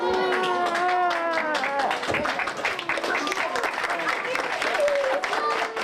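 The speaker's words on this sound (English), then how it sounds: "Not a dry eye in the room as everyone cheered and applauded and smiled" A room full of people cheers and applauds as a soldier, Sergeant First Class Irene Cepeda, comes home to her daughter, steady clapping mixed with high excited shouts and whoops, close and lively throughout.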